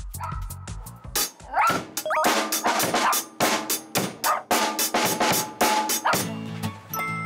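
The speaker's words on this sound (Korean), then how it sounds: "짖는 소리는 또 얼마나 큰지 옆 사무실까지 울려 퍼질 정도" A dog named Jackson barks loudly and repeatedly indoors at an academy, a rapid run of sharp close barks with a few higher yips and whines between them.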